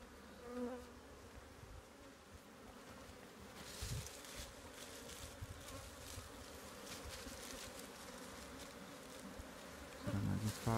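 Honey bees buzz around a hive box set under an orange tree, a dense, continuous droning swarm hum that is close and fairly quiet, with a few louder rustles and knocks.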